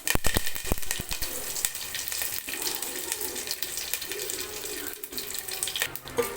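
Mustard seeds and urad dal fry in hot oil for Pallipalayam chicken, a steady crackling sizzle with sharp popping bursts, close and continuous, no one talking.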